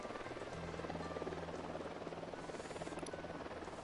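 An enemy Unidad helicopter approaching in the video game Ghost Recon Wildlands, a steady rotor drone and hum holding at moderate level under game ambience for a few seconds.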